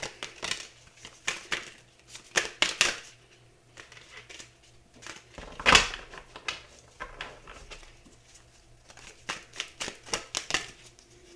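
Tarot cards being shuffled by hand in a quiet room, a series of soft papery riffles and slaps in short bursts, with one sharper, louder riffle near the middle.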